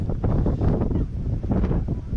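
Wind blows across a hilltop overlooking the sea where paragliders soar, rushing and buffeting the microphone in loud, uneven gusts with no voices.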